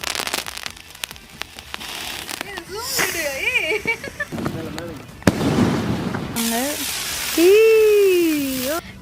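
Emo-brand firecrackers burst in a close, dense run of sharp cracks and pops, with loud crackling bursts and whistling tones layered over them while people talk throughout.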